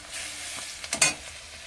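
Spice paste with chili powder sizzling in a pan for a Bengali river fish curry while being stirred: a steady close sizzle with a few scraping stirs near the end.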